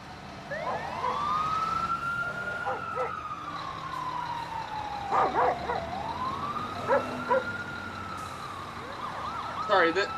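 A fire truck siren wails in long rising and falling sweeps, fairly loud and steady across the whole stretch, with short barking bursts and clanks breaking in now and then.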